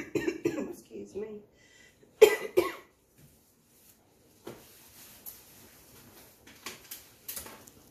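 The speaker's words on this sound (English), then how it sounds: "Pause it while I cough." A person coughs several times in short bursts, close by, with quiet pauses and faint handling noises between them.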